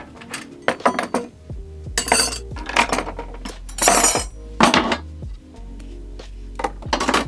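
Metal knives, forks and spoons clink and rattle as they are set into a drawer or holder in a travel trailer, a series of bright close jangles in irregular clusters with short quiet gaps between.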